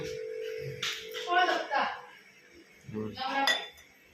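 Spoons and dishes clink and clatter in a few bursts, close up, with some speech mixed in.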